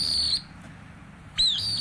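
Birds chirping in two short bursts of high, sliding whistled calls, one at the start and one near the end, with a quiet gap between.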